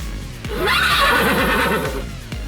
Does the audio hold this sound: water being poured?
no